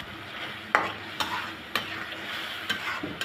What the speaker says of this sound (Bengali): নেড়ে চেড়ে ভালো করে মশলার সাথে চিংড়ি মাছটা কষিয়ে নেব